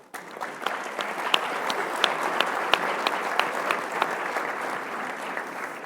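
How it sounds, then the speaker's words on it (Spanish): An audience at a conference on employability and inclusion applauds for Vilma, a steady wash of clapping from many hands that starts up quickly and holds at an even level throughout. "pido un aplauso para Vilma"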